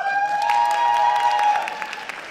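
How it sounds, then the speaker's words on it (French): Crowd applause at a cosplay contest, a dense continuous wash of clapping beneath a steady sustained tone, fairly loud and fading slightly at the end. "on s'attend à ce que vous fassiez un tonnerre d'applaudissements pour eux"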